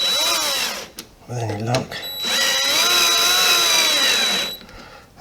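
A cordless power drill drives screws into deluxe trim on a VW T1 bus, its motor whining up in pitch across two close, loud runs; someone speaks briefly between them.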